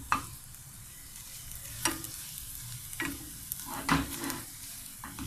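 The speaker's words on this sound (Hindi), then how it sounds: "इसको अच्छे से मिक्स करें ताकि इसमें कोकोनट ऑयल डाला है मैंने" Egg omelette mixture with spinach and cabbage being stirred in a pan of coconut oil, with a low steady sizzle and a few scraping spatula strokes at irregular intervals.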